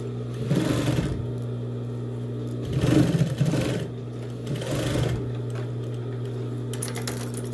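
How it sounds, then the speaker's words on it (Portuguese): Sewing machine stitching a seam on a zipper for a box-style pencil case, three bursts of rapid mechanical stitching separated by pauses over a steady background motor hum, fairly quiet and close. "E aí, você vai fazer uma costura aqui."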